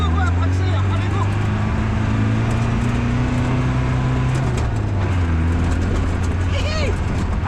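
A Land Rover Defender Ultra4 off-road vehicle accelerating among trees, with a loud continuous engine drone that rises steadily in pitch under excited voices.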